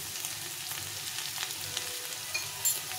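Ground turmeric, red chilli powder and cumin powder fry in a pan with a soft, even sizzle, a few faint stirring scrapes and a small pop near the end.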